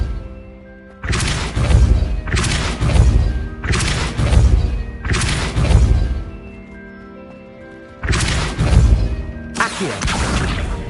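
Repeated spell casts from the Hogwarts Legacy video game, the Depulso repelling charm firing in a run of loud, crashing whooshes with short pauses between them.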